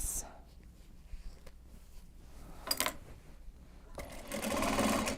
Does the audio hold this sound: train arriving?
no